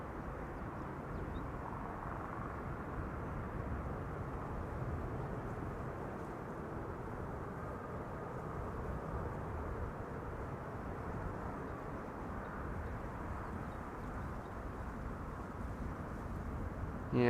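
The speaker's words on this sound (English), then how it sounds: "we are going to see an A319 from Air France. That's now next to land here on Kaagbaan." An Air France Airbus A319 arriving at Amsterdam Schiphol on the Kaagbaan runway, heard as a steady, broad jet roar that holds at an even level for the whole stretch without rising or fading.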